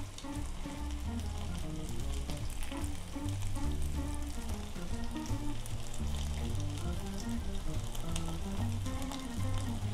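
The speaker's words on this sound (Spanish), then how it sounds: "en una cacerolita, vamos a poner una cantidad moderada de aceite para ir poniendo de a cucharadita para ir haciendo las tortitas" Shrimp and egg batter fritters for tortitas de camarón frying in a moderate amount of oil in a small pan, a steady dense sizzle with crackling pops that runs the full length, loud and close, with no voices.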